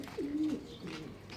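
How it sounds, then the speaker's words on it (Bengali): A single pigeon gives a short, low throaty coo up close, followed by a softer trailing note, brief and fairly quiet. "এই যে এখানে একটা এই নতুন কবুতর আনছে"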